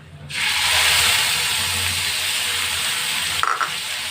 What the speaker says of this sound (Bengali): এবার এর মধ্যে আমি দিয়ে দিচ্ছি পেঁয়াজ বাটা